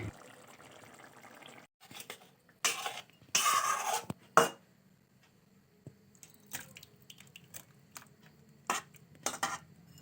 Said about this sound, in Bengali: তো আমি একটা পাত্রে এটা ঢেলে নিলাম।